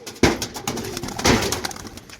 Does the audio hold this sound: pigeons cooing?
yes